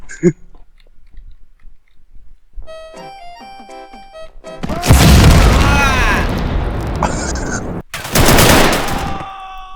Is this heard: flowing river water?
no